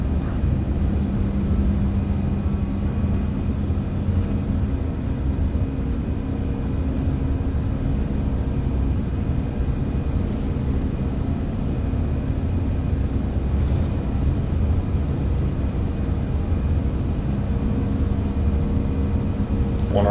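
Airbus A340-300 engines roar steadily at takeoff thrust in a flight simulator game, a loud, constant broadband rumble with a low drone that holds evenly throughout.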